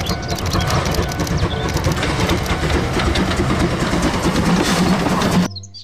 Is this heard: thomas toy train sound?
yes